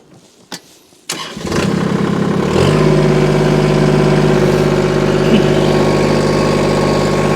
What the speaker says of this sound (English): this time I'm going to fire this tractor up